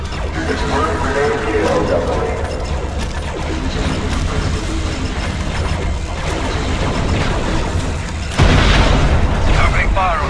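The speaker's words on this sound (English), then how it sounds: "Opening fire on the separatists." Assault ship guns open fire on Separatist forces in Star Wars Republic Commando, a steady mechanical clatter and rumble capped by a loud, heavy boom near the end, with voices in the mix.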